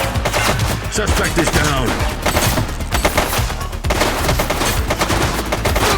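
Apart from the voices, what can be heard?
gunfire in the video game The Precinct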